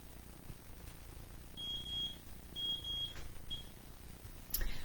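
Several high electronic beeps from a stove's safety system sound in short bursts, some single and some paired, over a faint background hiss.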